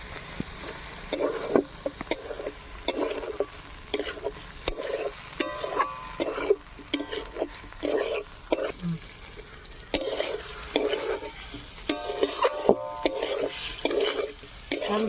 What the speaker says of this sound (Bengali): ভালো করে মশলাগুলোর সাথে ফুলকপিগুলো ভেজে নেব।